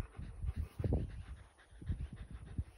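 A German Shepherd dog pants in quick, rhythmic huffs close by, soft and breathy, with a faint whimpery edge and a steady high electronic hiss underneath.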